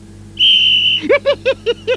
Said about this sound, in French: le sifflet pour arrêter les retards